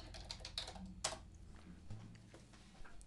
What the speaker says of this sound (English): So now I need to choose a track. Let's choose the first track. And because I'm recording the bass, I'll just type in